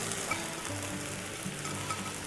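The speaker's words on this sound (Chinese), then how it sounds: "烧开以后，我们再来焯这个四季豆。" Green beans blanching in a pot of boiling water with a little oil added, giving a soft, steady bubbling hiss at low volume with no talking.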